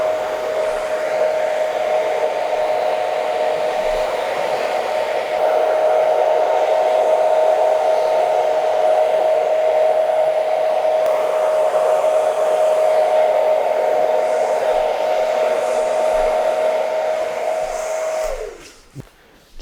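A hair dryer blows on a client's curly, medium-length wavy hair, a loud, steady close whine that holds for most of the stretch before cutting off abruptly near the end.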